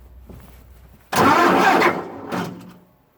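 A small engine cranks with the choke pulled halfway out, giving one loud burst of under a second, then a shorter, weaker second attempt before it falls quiet.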